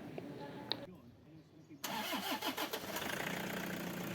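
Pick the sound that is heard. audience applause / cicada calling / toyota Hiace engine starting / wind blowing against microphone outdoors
toyota Hiace engine starting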